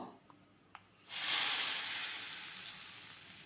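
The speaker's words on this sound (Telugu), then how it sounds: "ఇప్పుడు స్టవ్ ఆఫ్ చేసుకొని ఈ పోపుని మన సాంబార్లో వేసుకుందాము" Hot tempering with curry leaves goes into sambar after two small clicks. A sudden loud hiss and sizzle bursts up, then slowly fades while still sizzling, with no talk.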